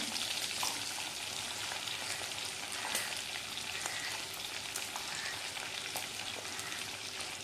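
Curry leaves and small shallots sauté in hot oil for a bitter gourd tamarind curry, giving a steady, close crackling sizzle with scattered sharp pops and no voices.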